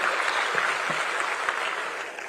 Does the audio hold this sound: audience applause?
yes